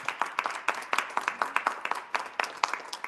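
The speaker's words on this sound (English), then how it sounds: "So a round of applause for Scott again." Audience applause at a technology conference keynote panel, a steady wash of many hands clapping throughout, fairly close and even, with no speech over it.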